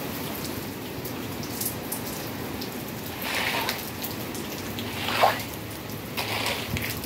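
Rain falling on leaves and surfaces on a rainy Easter Sunday, a steady soft patter with a few louder splashy drops, continuous throughout.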